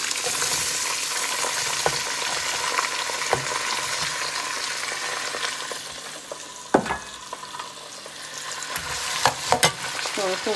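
Onion, garlic, bay leaf and turmeric frying in a pan, a steady soft sizzle with occasional sharp clicks and scrapes of stirring, close and fairly quiet.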